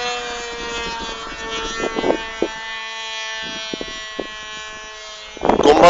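Small aircraft engine droning steadily in flight, a constant buzzing tone throughout, with bursts of talk breaking in over it and louder rustling near the end.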